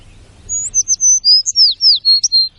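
Several small birds in the Chernobyl forest sing a run of clear, high whistled notes and slurred chirps in quick succession, fairly close and alone over a faint low rumble.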